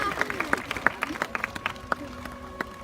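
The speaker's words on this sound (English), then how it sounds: "she wants another cheeky round of applause" A crowd claps at a sea lion show after a trick, scattered hand claps in an irregular patter across the stretch while a presenter's voice talks over it.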